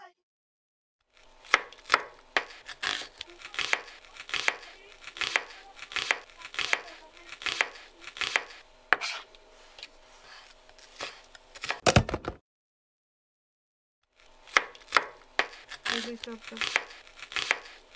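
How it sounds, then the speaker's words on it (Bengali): An onion is chopped with a knife for tomato bharta, giving steady, close knife strikes on a board in uneven bursts, a brief pause near the middle, then more chopping. "টমেটো গুলো সিদ্ধ হতে হতে এখন আমরা পেঁয়াজটাকে কেটে নেব"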